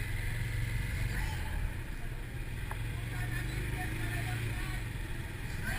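A 2020 Bristol BR 250 cafe-style motorcycle engine running steadily while being ridden, a low, even drone with wind noise, fairly constant and moderately loud throughout.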